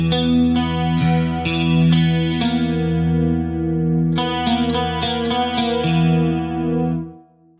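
Electric guitar plays verse chords through chorus and distortion effects, with sustained ringing strums in two phrases, including a dissonant tritone and flat-nine voicing, loud and close, ending as the last chord fades.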